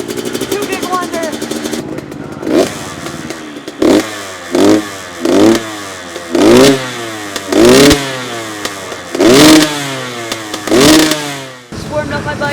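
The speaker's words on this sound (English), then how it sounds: "Just warmed up my bike a little bit." A dirt bike engine warming up before an Arenacross race blips repeatedly, with about eight loud, close revs rising and falling in an even rhythm between idle pauses, after an opening stretch of steady engine drone.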